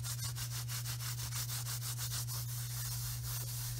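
Flocked patterned holiday paper is rubbed back and forth with quick, rhythmic brushing strokes, a soft, close scratchy texture under a steady low hum, with no talking.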